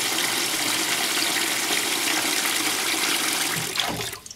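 Steady rushing water pours continuously into a top-loading washing machine tub, loud and constant, then tapers off and stops near the end.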